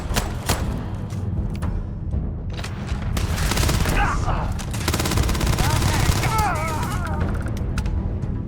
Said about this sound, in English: Please, Sarah, shoot him.